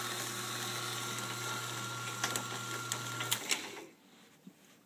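An electric motor inside a Perma Power unit hums steadily and fairly quietly with a mechanical whir, a few light clicks near the end before it winds down and stops, leaving faint background sound.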